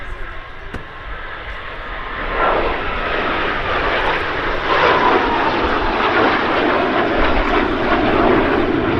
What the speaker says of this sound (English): this is what we see here, the BAC 167 Strike Master